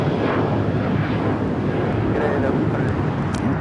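A Boeing 777-300ER airliner landing on the north side of Los Angeles International Airport, a loud continuous jet roar with wind buffeting on the microphone, steady and close throughout.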